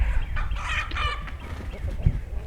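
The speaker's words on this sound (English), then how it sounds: "He is a purebred Welsumer rooster" Welsumer chickens cluck and murmur close by in a backyard flock, a few louder calls rising over a steady low rumble of background noise.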